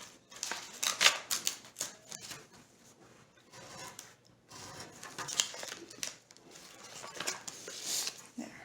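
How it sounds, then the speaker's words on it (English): Scissors snip through a paper gift bag being trimmed for decoupage, giving a run of short, crisp cuts in uneven bursts with quiet pauses between, close and fairly soft. "I'm going to use the scissors. I'm just going to trim this just a little more here."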